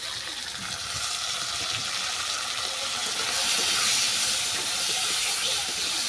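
Chopped tomato hits a frying paste of chilli powder, onion and garlic for a moringa flower dish, giving a loud, steady sizzle that swells slightly midway.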